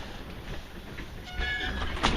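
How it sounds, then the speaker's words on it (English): Large garage door rolling on Haas 2-inch urethane rollers with a rubber gasket, giving a continuous rumbling roll with faint squeaks that grow louder toward the end. "kind of squeaky, but that's the Haas 2-inch urethane."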